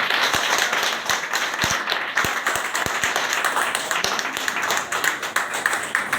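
An audience claps steadily and densely at a talk in India, a broad wash of hands with a few sharper individual claps standing out, continuing at even loudness throughout.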